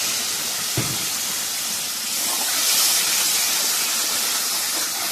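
Dried red chillies, bay leaves and spices sizzle in a pan after a splash of water, a loud steady steamy hiss close up, with a brief stir knock.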